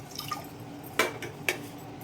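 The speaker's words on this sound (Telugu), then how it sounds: "నేను ఇంకొక 1/2 కప్ పోస్తానండి." Water is added to a pot of rice for temple-style sweet pongal. It comes as a few close, splashy drips and short trickles with clear gaps between them, and no talk.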